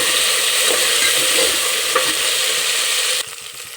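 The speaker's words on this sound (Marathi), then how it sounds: "आता आपण टाकू वाटाणा, गाजर आणि फ्लावर. ते पण चांगलं परतून घेऊया." Peas, carrot and cauliflower sautéing in a hot pan for masale bhat, a loud, dense sizzle with stirring scrapes that holds steady, then drops sharply quieter near the end, with no voices.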